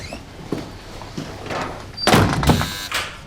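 An office door in a police squad room swings shut after some faint shuffling, landing as a sharp, loud thud with a brief rattle and a second bump before it settles.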